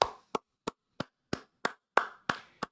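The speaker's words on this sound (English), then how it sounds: "round of applause" Nine separate, sharp hand claps ring out at a slow, even pace, each one crisp and close with a short decay, and nothing else is heard between them.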